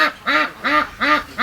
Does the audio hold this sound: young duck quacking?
yes